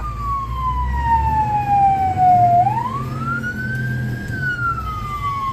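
A fire truck siren wails loud and close in traffic on the way to a grass fire, its pitch sliding slowly down, then sweeping back up and falling again, over a low engine rumble.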